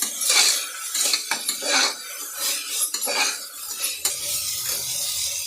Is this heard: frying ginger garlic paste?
yes